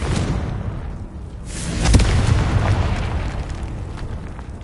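A Confringo fire spell explodes in a PS4 game, one loud booming blast with a rumbling, roaring tail that swells near the middle and keeps rolling to the end.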